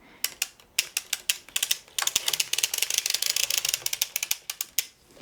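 A circular sock knitting machine cranked with project yarn and the heel spring off gives a rapid, steady run of sharp mechanical clicks and ratcheting ticks, sparse at first, then dense and continuous, close and alone with no talk.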